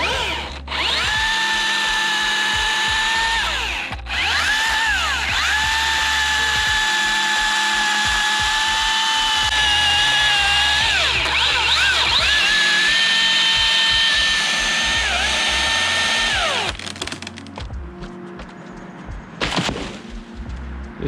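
A chainsaw cutting a dead limb from a decayed tree, its high, buzzing whine held for most of the clip with pitch dips as it bogs in the wood, then stopping, followed by a brief final burst.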